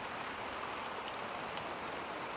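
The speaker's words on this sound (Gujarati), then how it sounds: "વરસાદ વધ્યો" Steady rain falling outdoors, a dense even hiss of drops on surfaces with no letup, moderately loud and continuous.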